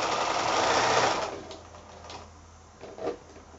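A sewing machine stitches quilt fabric pieces as they are fed straight through, with a steady close whirr that fades partway, then a short mechanical burst near the end.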